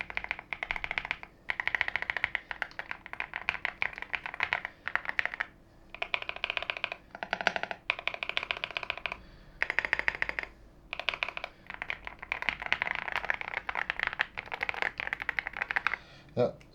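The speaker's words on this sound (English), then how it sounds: "I'm gonna get as close as I can with the camera to the keyboard so you guys can hear how it sounds like when you type." Typing on a YUNZII C75 mechanical keyboard, recorded up close: rapid, continuous clacky keystrokes in bursts separated by short pauses, loud and dominant.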